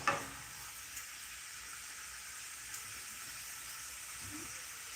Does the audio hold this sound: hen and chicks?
no